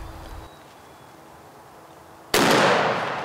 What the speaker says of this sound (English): I shot, buddy. I shot.